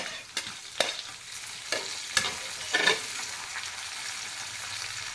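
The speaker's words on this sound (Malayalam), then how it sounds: "കറിവേപ്പില നമുക്ക് ബ്രൗൺ കളറാവുന്നിടം വരെ ഉള്ളിയൊക്കെ ഒരു ബ്രൗൺ കളറാവുന്നിടം വരെ വഴറ്റിയെടുക്കുക" Onions and curry leaves sautéing in a pan for a Kerala ash gourd pachadi, a quiet steady sizzle broken by several sharp spoon-stirring scrapes and clinks.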